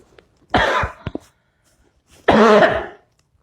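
Two distinct coughs, close and fairly loud, separated by a short pause with a faint throat sound between them.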